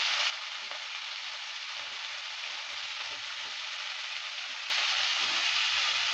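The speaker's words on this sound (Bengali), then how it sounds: "গোটা জিরাটা দেওয়ার পর নেড়ে চেড়ে নিচ্ছি" Whole cumin seeds sizzle and get stirred in hot mustard oil, a steady close hiss of frying that runs without pause and turns brighter and louder near the end, with no voices.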